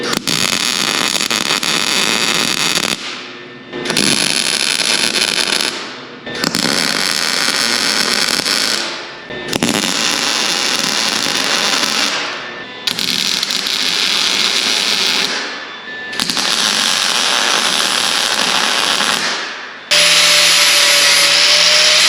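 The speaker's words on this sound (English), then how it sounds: "I'm gonna weld all these little spot welds now" Spot welds on a steel 1930 truck bed, a loud harsh buzzing crackle repeated in about seven bursts of two to three seconds each, separated by brief silent gaps, with no talk.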